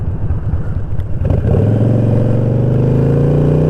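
A Harley-Davidson Sportster revs up. A loose, lumpy idle builds into a loud, steady, close engine drone as the bike pulls away and rides on.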